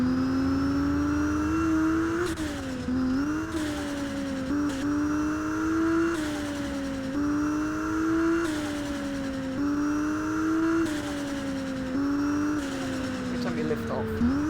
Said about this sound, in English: Oh, loud turbo noises from in here.